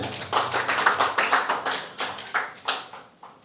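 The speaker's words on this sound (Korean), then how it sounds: "더 크게 박수" A church congregation claps in a burst of quick, uneven hand claps, close and loud, tapering off over a few seconds with no talk.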